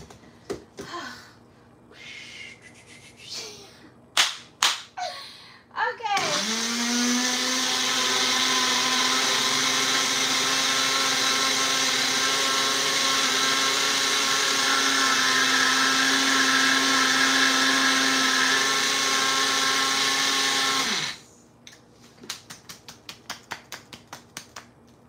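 A small kitchen appliance whirs continuously for about fifteen seconds, blending plantains into a smoothie, with a few clicks and taps before it starts and after it shuts off.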